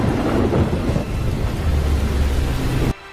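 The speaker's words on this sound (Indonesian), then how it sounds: "Mira melihat badai besar yang menuju ke arahnya." A large thunderstorm in a film, heavy rain roaring continuously with deep rumbling thunder rolling underneath, loud and close, cutting off abruptly at the end.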